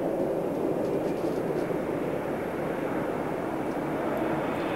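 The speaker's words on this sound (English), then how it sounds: "You can hear the reverse thrust coming through the studio." Concorde on its final landing with reverse thrust engaged, a steady, broad jet-engine roar that holds at a constant level throughout with no talk.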